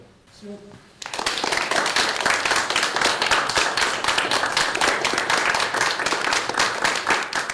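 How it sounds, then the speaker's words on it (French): A crowd bursts into sustained applause, dense clapping continuing steadily and loudly after a brief quiet opening with faint murmuring. "Je vous prie d'applaudir ces futures stars du cinéma, mesdames et messieurs."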